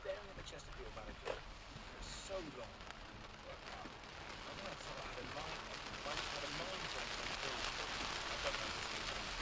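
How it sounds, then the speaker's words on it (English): Heavy rain drums steadily on a car driving along a UK road, a dense hiss that grows slightly louder, with someone talking over it. "Now you can see how bad that rain is, how bad the weather is."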